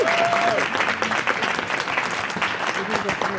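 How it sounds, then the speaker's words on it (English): A conference audience at an Arizona NOW state gathering gives a steady round of applause, dense and sustained throughout, with a faint voice briefly audible at the start. "A big round of applause"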